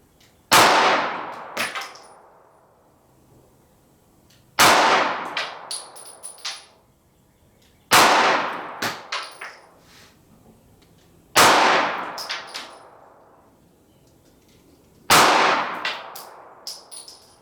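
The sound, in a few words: 9mm +P 124 gr Hornady Critical Duty shots into bare gel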